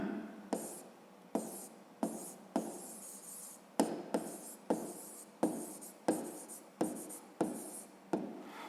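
A pen writes out a math solution on paper in short scratchy strokes, about a dozen bursts separated by brief pauses, close and fairly quiet with no talk.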